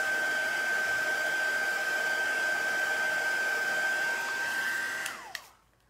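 A hair dryer blows steadily at close range, drying chalk paste on a Christmas vintage truck craft project, running as a loud continuous whir before switching off and winding down near the end.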